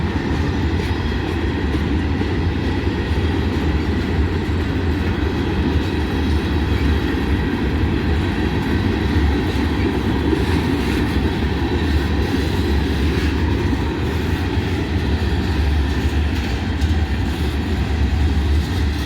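A long freight train rolls steadily past, its empty tank cars and gondolas producing a loud, continuous rumble with faint clickety-clack from the wheels and no voices.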